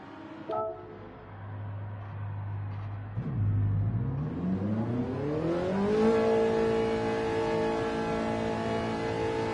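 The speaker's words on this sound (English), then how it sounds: "the sound of a Ferrari like nothing else" A Ferrari engine in Gran Turismo 7 idles low, blips briefly, then revs up steadily in a rising, harmonic-rich whine that climbs and holds at high revs, loud and alone.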